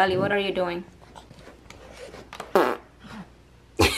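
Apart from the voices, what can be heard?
fart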